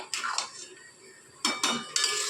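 A few clinking scrapes of a utensil against a pan as Kashmiri chilli powder is stirred into a fish head curry, in short separate bursts with quiet gaps between.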